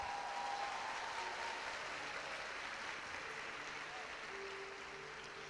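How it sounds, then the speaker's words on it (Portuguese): An audience in a church applauds in a steady, faint wash of clapping that holds evenly throughout and eases slightly toward the end. "Pode aplaudir."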